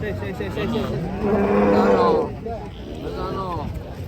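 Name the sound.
cattle with bull-like horns unloading from a truck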